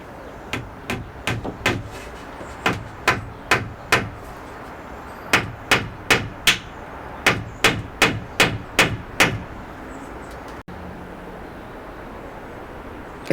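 Nails are hammered into pallet wood roof boards on a cabin rebuild, sharp close knocks in quick bursts of three or four with brief pauses between groups, about twenty strikes in all, then quiet.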